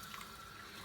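Clean water runs from a tap over salt-scrubbed ingredients in a sink during cough-medicine preparation, a soft steady splashing stream, faint and alone.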